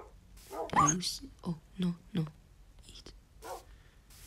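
Minecraft game dogs give a few short, soft barks in a quick series, mixed with a person talking quietly nearby.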